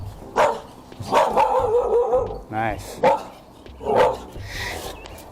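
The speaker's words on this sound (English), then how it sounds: "Nice dog, nice dog," A dog barks at a house by the driveway during a food delivery, giving several loud, close barks and yips spaced about a second apart, with someone speaking between them.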